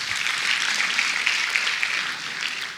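Steady applause from members attending the 48th PPSN annual conference in Uyo, welcoming new members; a dense, even wash of clapping held for a few seconds, moderately loud and fairly close.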